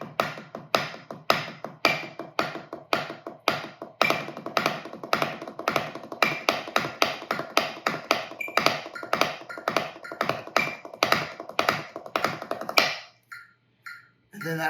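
Drum warm-up on a practice surface: a fast, steady stream of sharp stick taps with accented strokes standing out inside a double paradiddle pattern. The taps are close and clear and run for about thirteen seconds before a brief stop.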